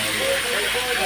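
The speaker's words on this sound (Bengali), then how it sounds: "এই যে আমার তেল গরম হয়ে গেছে। এই যে মাছ এইভাবে দিতে হয়।" Fish sizzling as it goes into hot oil in a home kitchen, a steady close hiss with a voice talking over it.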